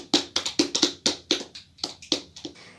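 A classroom audience claps for a student, about a dozen crisp, close hand claps in a loose, steady rhythm, with no talking over them.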